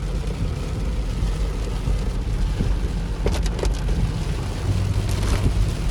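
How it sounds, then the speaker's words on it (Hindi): Heavy rain pours steadily while driving at dusk through the Shivalik hills past Rajaji Park toward Dehradun, a dense continuous roar with a low rumble underneath and a few sharper crackles partway through. "ये देखो बारिश तेज़ हो गई है देखते देखते।"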